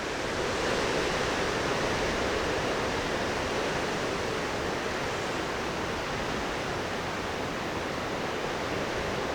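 Ocean waves funnel through Arch Rock along a rocky coastline, heard as a steady, dense wash of surf that roars on without distinct breaks for the whole stretch.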